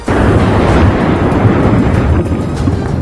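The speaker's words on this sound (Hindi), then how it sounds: "ज्वालामुखी के विस्फोट के बाद सामने आए एक वीडियो में तेज आवाज के साथ अंगारे धरती से तेजी से निकलते दिखाई दिए" A volcanic eruption blasts lava and embers from the ground in a loud, continuous roaring rumble, close and heavy, with no talk over it.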